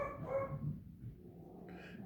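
Dogs bark faintly in the distance, a soft muffled yip or two against a low background hum near an engine workbench.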